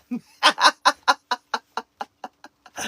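A human voice mimics a clucking mother hen, giving about a dozen short, evenly spaced clucks that grow quieter and quicker, then ends with a longer sound.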